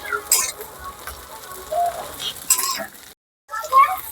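Onion, garlic and green chilli frying in a pan, with soft sizzling, intermittent stirring scrapes and pauses, the cooking noise fairly close but quiet, with a short silent break.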